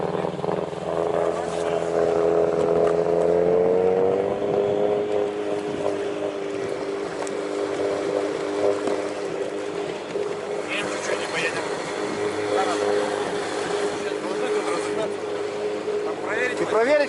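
A motorboat engine runs loud and close with a rising pitch as the boat speeds up onto the plane, wind buffeting the microphone and a voice briefly speaking over it.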